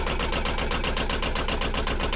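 A newly installed boat engine runs at a steady idle, a continuous throbbing mechanical rumble with an even pulsing rhythm, close by and fairly loud, with no voices.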